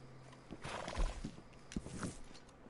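A horse in the Red Dead Online video game snorts and whinnies with a few hoof clops, soft and fairly close against a quiet game background.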